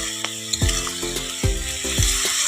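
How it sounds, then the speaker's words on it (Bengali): Bengali shukto vegetables are stirred in a hot pan, with a soft sizzle under repeated scraping and clinking strokes of a spoon against the pan, roughly four distinct knocks over a couple of seconds. "দেখো সব নাড়াচাড়া করছি।"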